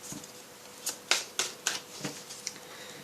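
Tarot cards being shuffled by hand, a quick series of soft, crisp riffling bursts close by, faint and uneven in rhythm.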